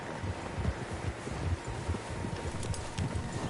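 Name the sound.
horses' hooves in Red Dead Redemption II video game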